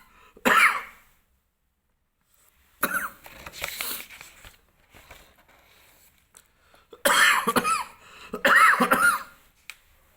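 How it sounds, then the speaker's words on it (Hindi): Several separate bursts of coughing at close range, with harsh throat-clearing hacks spread across long quiet gaps, alone with no talk. "खांसी आ गई तुम्हें?"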